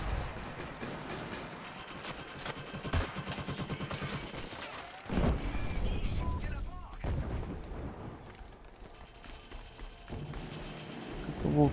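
Rapid bursts of gunfire and loud shots in the video game Killzone Shadow Fall team deathmatch ring out, mixed with mechanical clicks and action sounds, fairly loud throughout.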